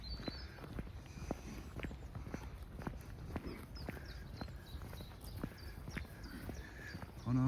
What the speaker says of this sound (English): the Cambridge cows come to see us